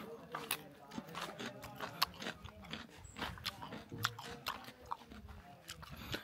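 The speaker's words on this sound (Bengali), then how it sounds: "শশা কামড় দিচ্ছি, শশার কামড়টা দেখে।" Someone biting and chewing a crisp cucumber outdoors on a hill trip, with repeated crunchy bites and soft chewing close by, partly under faint talk and background noise.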